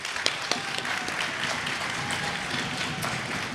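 A crowd at a band's seasonal showcase applauds steadily, a dense wash of clapping that holds evenly throughout without clear cheers standing out.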